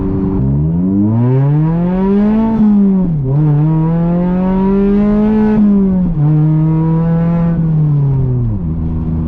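A Mazda MX-5 ND engine revs hard while accelerating, climbing in pitch through three gears with brief dips at each shift, loud and close with no talk.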